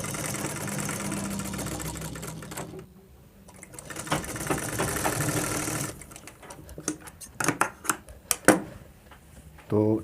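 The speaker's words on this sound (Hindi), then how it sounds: "तो इसी तरह से आप ब्लाउज की सिलाई लगाते जाइए।" An electric sewing machine stitches a blouse, running in rapid buzzing bursts separated by short pauses, with sharp clicks and handling knocks near the end.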